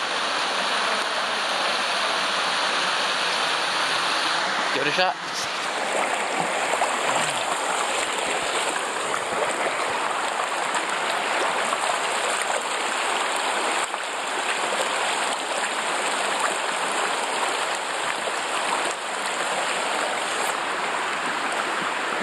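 The Tyenna River in Tasmania flows in a steady, broadband rush close by, continuous from start to finish with a brief disturbance around five seconds, and a short remark is spoken over it.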